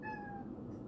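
A single short meow from a nearby cat, rising then trailing off, quiet and close.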